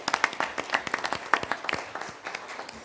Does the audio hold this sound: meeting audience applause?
yes